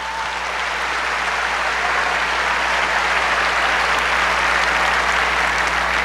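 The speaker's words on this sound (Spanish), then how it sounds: "un aplauso fuerte para el hermano." A church congregation claps loudly for a brother, dense, steady applause that fills the room, sustained without a break and with no voices over it.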